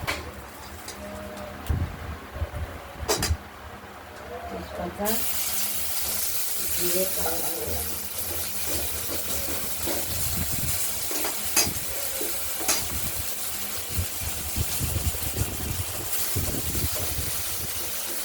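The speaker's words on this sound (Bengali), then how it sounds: "এবার ফোড়নটা দিয়ে আলুগুলো ভেজে নেব।" Potatoes frying in hot oil with whole tempering spices for a rohu fish curry, a steady close sizzle that swells louder partway through, with scraping stirs and occasional birds cooing in the background.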